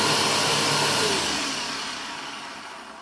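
A Bissell Powerforce Helix upright vacuum cleaner runs with a loud, steady, close-up roaring whine that eases slightly in level toward the end, with no talking.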